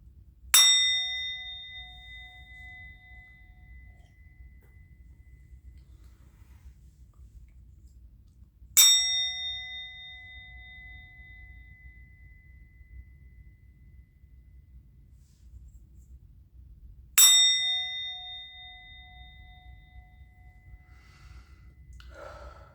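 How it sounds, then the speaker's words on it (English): A bell is struck three times, about nine seconds apart, each clear ringing strike sustaining and slowly decaying over a low steady background hum. "I'm going to ring the bell."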